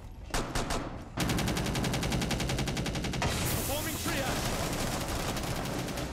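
Gunfire in a first-person shooter match: after a few scattered shots, a loud, rapid automatic burst starts and keeps going as sustained machine-gun fire, densely layered and continuous to the end.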